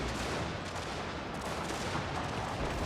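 Continuous rumbling battlefield noise from a Prussia strategy video game, with artillery fire blending into a dense wash of distant gunfire and booms that never lets up.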